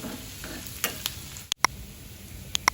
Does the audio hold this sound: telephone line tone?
no